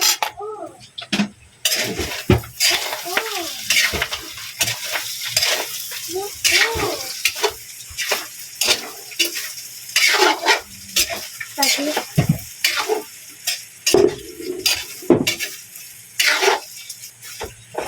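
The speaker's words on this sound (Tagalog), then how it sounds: "Haluin lang natin yung ating lechon at lumalagotok-lagotok na." Pork lechon being stirred as it fries and crackles in a pan, with irregular popping and scraping bursts close by, a dog barking now and then in the background.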